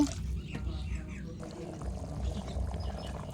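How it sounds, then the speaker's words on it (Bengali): Water is poured onto potatoes cooked in spice masala for a rohu fish curry, giving a soft, steady pouring splash at close range with a voice audible underneath. "আলুগুলো মশলার মধ্যে ভালো করে কষানো হয়ে গেছে এবার জল দিয়ে দিব"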